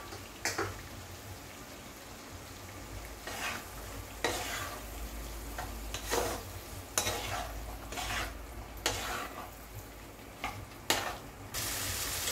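Boiled chickpeas frying with spice masala in a pan for chana paneer masala, a steady close sizzle broken by repeated scraping stirs every second or so, no voices.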